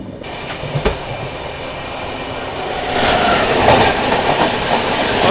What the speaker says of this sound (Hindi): अभी देखो बगल से एक क्रॉस हो रही है विशाखापट्टनम सिकंदराबाद गरीब रथ एक्सप्रेस